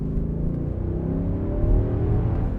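A Nissan Y62 Patrol's big engine revs steadily close by, a deep, continuous growl that swells slightly near the middle and holds loud throughout, with no voices.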